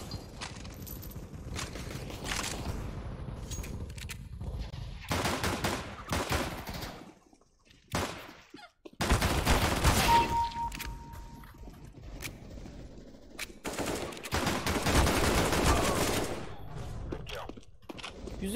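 Gunfire in the video game Counter-Strike: Global Offensive: rapid automatic bursts and single shots come in clusters with short quiet gaps, loud and close, with a voice at times.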